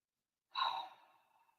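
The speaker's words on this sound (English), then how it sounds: "So breathing in for 7 through the nose." One slow breath drawn in through the nose as part of a guided breathing exercise, soft and close, lasting about a second and fading out against silence.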